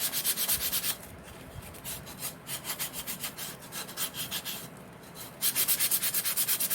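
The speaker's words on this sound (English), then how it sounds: "Let's give it a good scuffing." Close, rhythmic scratching of sandpaper scuffing a shiny poured pumpkin craft surface back and forth, with fast bursts at the start and end and slower strokes between.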